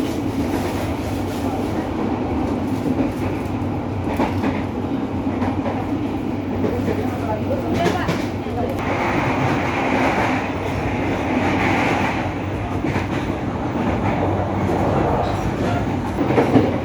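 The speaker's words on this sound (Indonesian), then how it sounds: "Ini dia kereta restorasi dari kereta api Gumarang." Steady rumble and rattle from inside the restaurant car of the moving Gumarang train, continuous and fairly loud, with faint clatter and murmur in the background.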